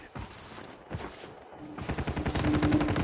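Gunfire in a battle royale video game: scattered single shots at first, then rapid, dense bursts of automatic fire that grow louder toward the end.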